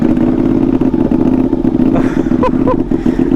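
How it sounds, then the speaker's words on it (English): Ducati 959 Panigale motorcycle engine running very loud and close, a dense, throbbing idle with rapid rhythmic pulsing, a few sharp clicks and metallic clatter toward the end. "let's get this bike started up."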